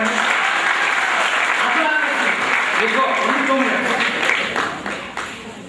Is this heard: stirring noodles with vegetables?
no